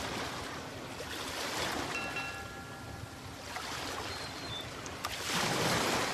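Ocean waves wash around a ship at sea, a soft, steady surf hiss that swells and fades, growing slightly louder toward the end.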